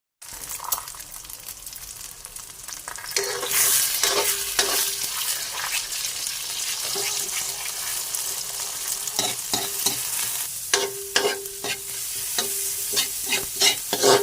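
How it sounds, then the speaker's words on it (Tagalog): Onion and garlic sauté in a pan with a strong, continuous sizzle and frying hiss, while a spatula scrapes and taps the pan repeatedly in an irregular rhythm throughout, close up and without speech. "Dito ko na rin ginisa na yung sibuyas, bawang"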